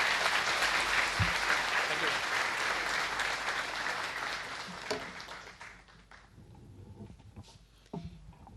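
Applause from a lecture-hall audience at a speaker series welcoming Dr. Kiran Bedi: full, dense clapping that holds steady for several seconds, then thins out and fades to scattered claps near the end.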